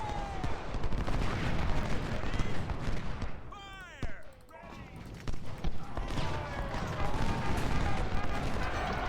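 Artillery batteries firing across a Civil War battlefield at Antietam in Ultimate General: Civil War, a dense, continuous roll of cannon and musket fire with overlapping booms, steady and loud throughout with a brief thinning midway.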